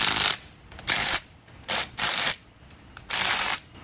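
A ratchet wrench torques down bolts on a Toyota 7.5-inch front differential during a regear with an Eaton E-Locker, giving five loud, close bursts of rapid clicking with short pauses between strokes.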